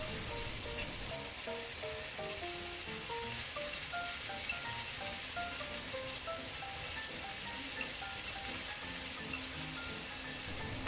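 Onions sizzle steadily as they stir-fry in leftover pork lard in a wok, a continuous close frying hiss beneath softly playing background music, with no speech.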